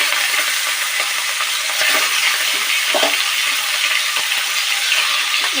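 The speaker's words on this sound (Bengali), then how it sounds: "মেখে রাখা চিংড়ি মাছগুলো ভেজে দেবো।" Marinated prawns, rubbed with salt and turmeric, fry in hot oil with a loud, steady sizzle and a few faint clinks and stirring scrapes, and no voices.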